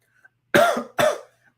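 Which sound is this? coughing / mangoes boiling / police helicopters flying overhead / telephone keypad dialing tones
coughing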